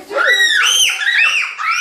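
Young girls shriek loudly at home while playing and holding a door shut, shrill high-pitched screams rising and falling in quick overlapping bursts, very close.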